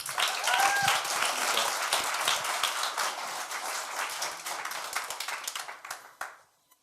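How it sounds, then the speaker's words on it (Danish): An audience claps steadily in a church hall, dense applause that runs for several seconds before thinning out and stopping abruptly. "Ska du göra en klapp?"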